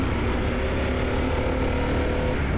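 Harley-Davidson Pan America adventure motorcycle engine running steadily at a low idle-like hum, continuous and fairly close for the whole stretch, with no talk over it.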